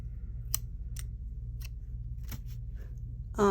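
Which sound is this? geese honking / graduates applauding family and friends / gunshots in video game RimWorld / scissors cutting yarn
scissors cutting yarn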